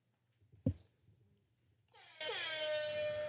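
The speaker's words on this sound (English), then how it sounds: "we got an alarm going off. Fire alarm?" An alarm goes off after a few faint electronic beeps and a thump, rising into a loud sustained ringing tone that holds to the end.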